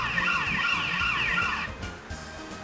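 A phone's text message alert that mimics a police siren, with a loud warbling wail sweeping up and down for about a second and a half before cutting off, leaving quieter background noise.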